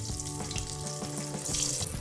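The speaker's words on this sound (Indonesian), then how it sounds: "Kemudian lanjut kita goreng dagingnya." Beef for Padang dendeng balado frying in oil, a continuous near sizzle with small crackles and pops, growing slightly louder toward the end, with no talking.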